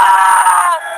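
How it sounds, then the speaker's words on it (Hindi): A man's sustained, strained scream lasting about a second, loud and close, fading slightly at the end, used as a sound effect in a Hindi horror story about a witch train. "तभी गोपी की चीखने की आवाज आती है।"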